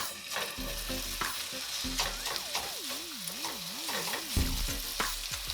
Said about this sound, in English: I've added in some bacon fat, of course. I'm going to mix that with our sausage.